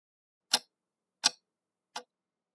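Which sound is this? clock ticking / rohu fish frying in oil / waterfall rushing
clock ticking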